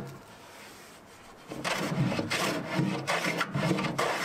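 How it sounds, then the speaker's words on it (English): A hand plane trims the solid wood edge of a bookcase, starting after a quiet moment with rhythmic, close, rasping strokes that repeat several times. "I used the hand plane to flush up the edges."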